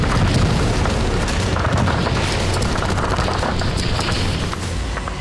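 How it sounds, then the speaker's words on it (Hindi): Russian troops fire at a small two-seater training aircraft in flight, a dense, continuous crackle of rapid gunshots and booming bursts that stays loud throughout with no talk. "रूसी फौज इसे गिराने के लिए फायरिंग कर रही है"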